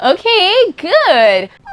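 A dog gives two drawn-out, wavering whines with a yip-like catch, close and clear, and a person's voice speaks briefly at the end.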